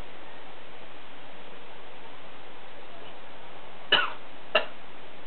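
Two short, sharp coughs close to the mic, the second fainter, after inhaling apple-flavored Black & Mild cigar smoke, in an otherwise quiet room with a faint hiss.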